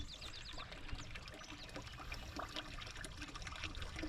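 Water pours and trickles steadily outdoors on a paddock farm, a continuous close splashing flow that fills a heavy container and holds at an even level throughout.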